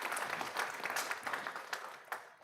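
Audience applause at a school board meeting, a steady round of clapping from a crowd filling the whole stretch, with denser bursts here and there and no talking over it.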